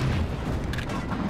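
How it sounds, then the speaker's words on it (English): Gunfire and explosions from the video game Halo 3 form a dense, loud barrage of booms and bursts that fills the whole moment without a pause. "Oh, I hear gunfire."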